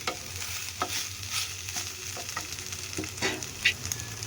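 Chicken pieces and onions fry in a pan, a soft steady sizzle broken by a few scraping stirs, fairly faint and without talking.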